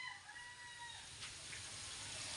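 A pet bird gives repeated high, wavering calls and clucks while eating soft chicken, over a faint, steady background hum, fairly quiet and close.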